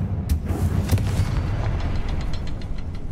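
A Confringo explosion spell from a Harry Potter video game goes off with a dense, rumbling boom, followed by a sustained roar of blast-like noise and scattered sharp bursts.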